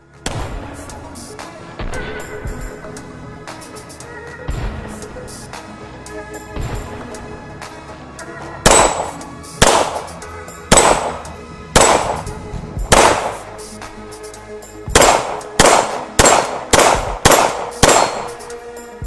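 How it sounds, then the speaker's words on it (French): Sharp metallic reports from a Springfield Armory 1911 DS Prodigy pistol at a range, a slower spaced series giving way to rapid strings of loud shots with ringing decay. "On peut enchaîner les tirs rapidement sans que l'arme bouge."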